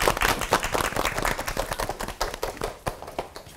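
Studio audience at a Korean Christian talk show claps in a dense, lively patter that softens toward the end, with no voices over it.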